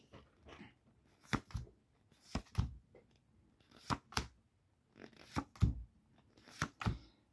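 Pokemon trading cards handled and slid into sleeves, a quiet string of crisp snapping and shuffling clicks coming in small irregular clusters, close up.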